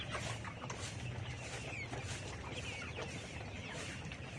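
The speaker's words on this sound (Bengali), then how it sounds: "আমার এখানে যে মুরগিগুলো দেখতেছেন এই মুরগিগুলো হচ্ছে কাজীর বাচ্চা।" Pullet chickens of the Kazi breed cluck steadily on a poultry farm holding about 3,500 birds, a dense, continuous chorus of many hens close by with no talk over it.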